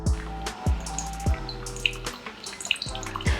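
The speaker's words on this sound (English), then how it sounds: "Wait for the water to flow through almost to the bottom" Water dripping through a bed of ground coffee in a Hario V60 dripper, with slow, regular close-up drips that land about every half second over a soft trickle.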